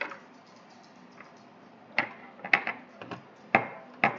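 A seam ripper picks at embroidery stitches on a 1998 electronic talking Pikachu plush, giving faint, sparse little clicks and snips spaced irregularly over near silence.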